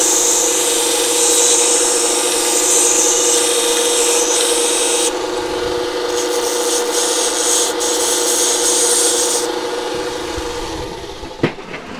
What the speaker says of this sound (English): I'm gonna bring you over here to the sander.